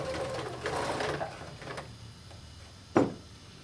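A sewing machine stitching a fabric storage pouch: a quiet, steady mechanical whirr that fades midway, then a single sharp knock, with no talk.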